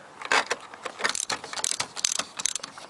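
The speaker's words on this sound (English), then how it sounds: "First thing you got to do is just take this one bolt off here." A hand ratchet loosening a bolt on a GM 3800 Series II engine mount, with rapid close-up bursts of sharp metallic clicking in uneven runs.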